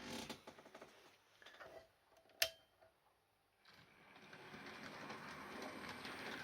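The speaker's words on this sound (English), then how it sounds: "I love watching my trains going round and round in circles, which is what I'm doing now" A small Oxford Rail Dean Goods model locomotive rattles along its track, with a sharp click partway through, a brief lull, then steady clickety running returns.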